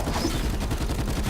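Rapid automatic gunfire in Call of Duty: Black Ops 4 on a zombies map, a loud close burst of shots in quick succession.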